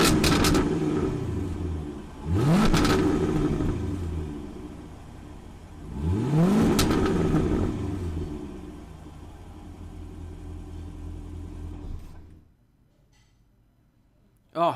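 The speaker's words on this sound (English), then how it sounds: "that engine, it just gets attention everywhere you go. It's so loud. It sounds like thunder on the street." A 2016 Jaguar F-TYPE R sports car engine revs hard twice in quick succession, each loud blip rising and then falling back to a rumbling idle that holds steady before cutting off near the end.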